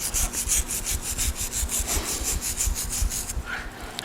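Rapid rhythmic scrubbing of a Foredom power carving tool against wood while carving a cottontail rabbit, close and loud with steady back-and-forth rasping that shifts tone near the end.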